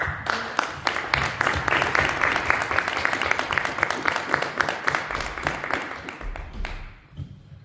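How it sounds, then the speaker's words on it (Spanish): Worshippers in a church break into loud, sustained applause as an offering of praise, many hands clapping at once for several seconds before the sound thins out and fades at the end. "Ofrenda de palmas al Señor."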